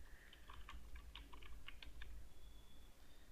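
Irregular keystrokes on a computer keyboard, a quick run of clicks followed by a short pause, close and clear, with no talking.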